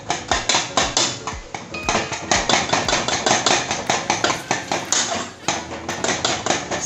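A spoon knocks and scrapes against a pot while cooked leafy greens are broken up, giving a steady run of close, sharp metallic taps and clinks, with no talking.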